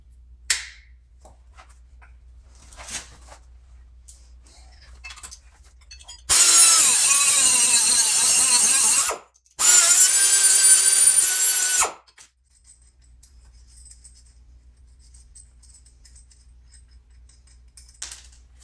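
Power drill driving bolts for hood pins, two loud close bursts of whirring about three and two seconds long separated by a short pause, with faint handling clicks before and after.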